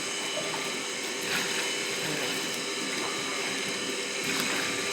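A household water pump motor running with water flowing: a steady mechanical hum with a faint rattling texture, even and continuous at a moderate distance, with no talk.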